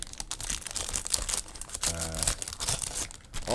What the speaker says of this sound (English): pieces from all of the plastic bags